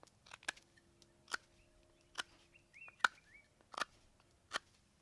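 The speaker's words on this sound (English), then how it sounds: "We turn our wood and we cut a bowl." A knife cuts the bowl of a hand-carved wooden spoon in a series of sharp, separate chops and scrapes, close and distinct against a quiet background.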